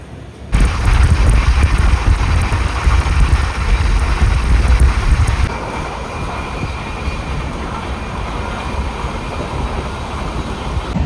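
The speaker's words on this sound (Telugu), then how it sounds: "ట్రైన్ అయితే మామూలు స్పీడ్లో వెళ్తలేదు పెద్ద స్పీడ్ కింద వెళ్తుంది" A train rushes past at high speed near Tenali Junction, a loud rumbling roar with rattling wheels that drops to a steadier, quieter clatter partway through.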